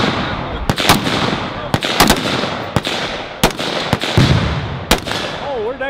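Gunshots from a Troy rifle at an outdoor range day, sharp loud cracks fired singly and in quick pairs at irregular intervals, with a steady noisy outdoor background and some talking between shots.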